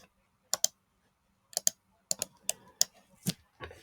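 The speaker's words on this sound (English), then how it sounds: "So to confirm my password, I will repeat the same password which I have typed here." Someone types a password on a computer keyboard during a Kali Linux virtual machine setup, producing short bursts of crisp key clicks separated by pauses, close and fairly quiet, with no talking.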